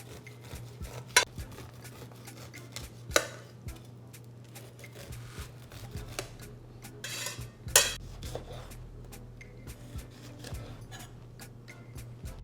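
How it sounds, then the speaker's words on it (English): A knife scrapes and taps against a cutting board as corn kernels are cut off the cob, with a few sharp clicks and scattered soft scraping strokes over a faint steady background hum. "I'm just cutting the corn kernels."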